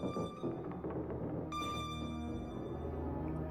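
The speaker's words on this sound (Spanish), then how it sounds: "Lo que están escuchando ahora es Pini de Roma, una obra sinfónica creada por Otorrino Respighi en 1924" An orchestral recording of Respighi's 1924 symphonic poem Pines of Rome plays quietly: dense, bright orchestral texture with sustained tones and busy figures, heard alone without talking.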